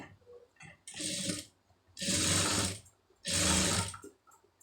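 A sewing machine runs in three loud, steady bursts, each about a second long with short pauses between, as it stitches along the edge of neatly folded cloth.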